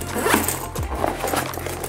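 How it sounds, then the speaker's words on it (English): A zipper on a travel bag is pulled along in a couple of quick, close, scratchy strokes, loud and distinct, with a low steady hum underneath. "Just zip it all the way down."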